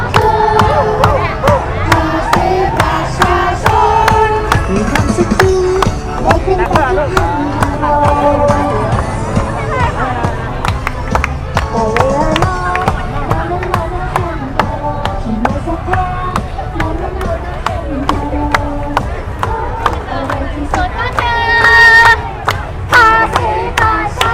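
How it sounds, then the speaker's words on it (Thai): Protest crowd at a monument singing and chanting along to music played from a small loudspeaker, a loud mix of melody, voices and rhythmic clapping throughout. "เดี๋ยวให้ฟังเพลงกันสักนิดหนึ่งนะครับ"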